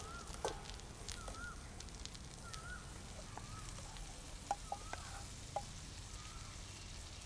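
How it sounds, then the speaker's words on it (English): An orange-red spice paste (masala) for Tulu-style chicken curry sautés in a pan with a soft, faint continuous sizzle, broken by a few light clinks of a utensil. "now I'm just lightly sauteing this wonderful bright orange reddish kind of paste"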